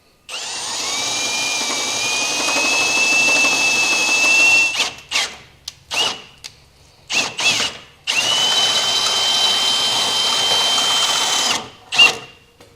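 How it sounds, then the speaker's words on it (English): A power drill with a half-inch bit whines steadily as it bores through material for a vehicle base plate install, then stutters in short bursts before running continuously again, loud and close. "Now we're going to take a 1/2 inch drill bit, and we'll drill through the other side."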